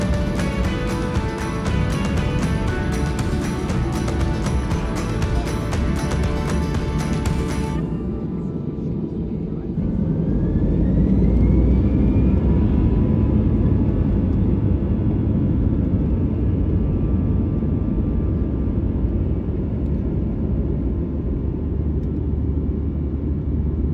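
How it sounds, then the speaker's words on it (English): An EasyJet passenger jet departing Rovaniemi in Finnish Lapland, starting with steady cabin hum and background music, then a sharp rising engine roar as the takeoff run builds into a loud, sustained rumble. "Taking off out of Rovaniemi in Finnish Lapland, we begin our 3-hour flight over to Edinburgh in Scotland."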